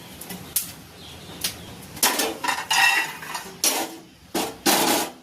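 Roasted peanuts being taken out of a pan, heard as a run of metallic scraping and clattering strokes from a spoon against the pan, irregular and close, louder in the second half, with no talk.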